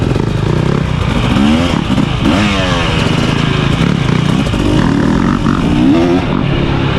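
A 2023 KTM 300XC TBI two-stroke dirt bike engine at Crow Canyon blares close and loud with rising and falling revs, buzzing steadily throughout with a few throttle surges and no talk.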